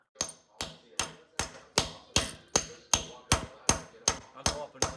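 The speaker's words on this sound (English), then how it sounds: "we're going to use our drift pin and we're going to try and tap this out" A hammer taps a steel drift pin to drive a snapped, stuck wheel bearing bolt out of an LX 300 Magnum Charger, about eleven sharp metallic strikes at an even, steady pace, close and clear.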